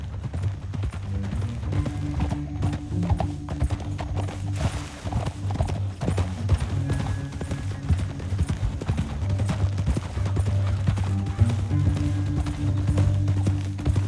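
Steady clip-clop of horse hooves at a brisk trot in the video game Red Dead Redemption 2, continuous and close, with a low rumbling tone underneath throughout.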